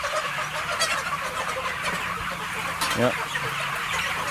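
Chickens cluck and chatter on a pasture, a steady flock murmur close by with a brief louder squawk, while a person speaks briefly.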